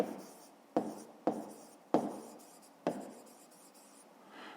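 Writing by hand during a fifth-grade maths exercise, with four distinct strokes, each a sharp tap trailing into a soft scratch, spaced irregularly against a quiet, faintly hissing background.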